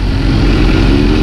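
A motorcycle engine drones loudly and steadily while riding on asphalt during a hot summer tour in Fukushima, with constant wind rush and no talking.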